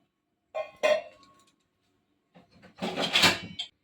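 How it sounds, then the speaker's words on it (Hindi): Close metallic clanks and scraping as a pressure cooker lid is set and twisted shut, in two short bursts separated by a pause, with no talking. "अब हम कुकर का लीड बंद करके"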